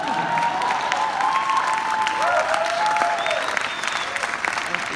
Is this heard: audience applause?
yes